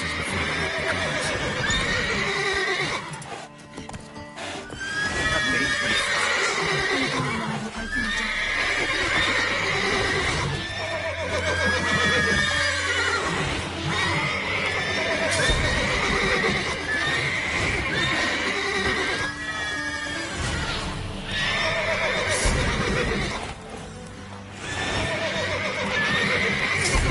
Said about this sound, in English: Gotta calm all the horses before they make the calls.